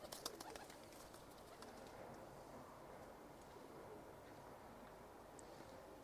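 Pigeons of the Turkish long-face Boğma Hünkarı high-flyer type coo softly and continuously at a low level, a few fainter chirps scattered over the steady murmur.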